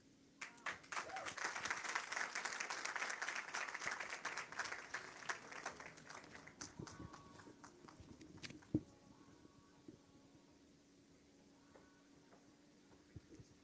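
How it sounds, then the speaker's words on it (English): Applause breaks out from an audience at a motivational talk, dense for several seconds and then fading into sparse claps and quiet room tone, with a single sharp knock near the end. "Can we give him another huge round of applause?"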